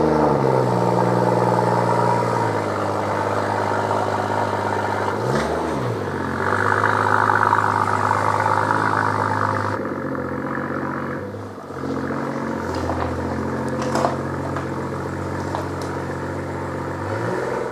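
A BMW M140i engine running as the car is driven off a workshop ramp after a service, a steady idle with a couple of revs rising and falling, close by with no talk.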